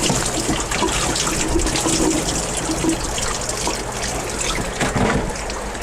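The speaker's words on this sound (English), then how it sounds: "Empty all the water out of my hose." Water drains steadily out of a hose in a fish room, a constant near rush and trickle with a low hum beneath it and no pauses.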